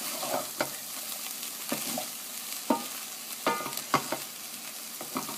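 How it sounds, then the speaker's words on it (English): String beans and potatoes in a curry pot are stirred with a spoon, giving repeated scraping strokes and clacks against the pot over a steady background hiss, at close range with no talking. "and do a stir, because I want to make sure my beans and my potatoes are well done."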